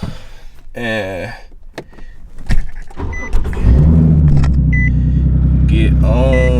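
A Nissan 370Z cranks and starts, the engine catching into a loud, steady idle rumble after some rustling and faint clicks inside the car, with brief speech early on.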